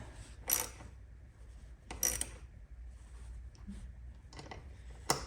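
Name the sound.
ratchet tool tightening BMW R NineT air filter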